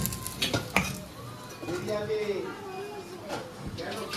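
Jute leaf fritters frying in a pan give a low sizzle with clinks of a utensil and pan against it, while people talk over most of it.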